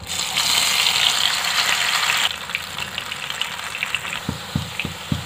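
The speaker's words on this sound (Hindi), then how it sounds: "एक कढ़ाई में मैंने तेल गरम किया इसमें डालेंगे अंडे ये आलू" Eggs and potatoes drop into hot oil in a wok, a loud rushing sizzle that settles into a quieter crackle, with a few sharp taps near the end.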